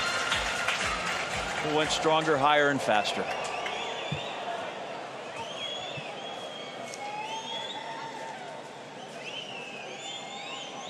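A ceremony crowd applauds the athletes, a broad wash of clapping and cheering with occasional whistles, heard under a man's announcement at the start and then continuing on its own.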